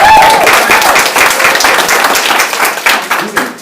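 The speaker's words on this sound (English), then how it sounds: "Give Tyler a round of applause." Audience applause for a new real estate agent: a short burst of loud, close clapping from a small group, thinning toward the end.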